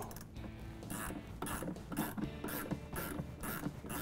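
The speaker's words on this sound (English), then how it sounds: "the first thing I'm going to do is go ahead and remove this nut on the bottom of the shock using a 9/16 wrench" A 9/16 wrench ratchets and clicks on a nut at the bottom of a rear shock on a 2018 Club Car Precedent golf cart, with repeated quiet mechanical clicks and metal scrapes in a rough rhythm.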